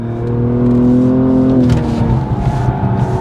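A BMW M240i with a single-turbo six-cylinder engine drives on a race track, heard from inside as a loud, steady engine drone that holds its pitch, then shifts and settles into a rougher rumble.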